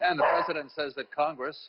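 A pet dog barks in the background of a remote news interview about U.S. politics, with short yips and woofs mixed under a man's steady, close speech.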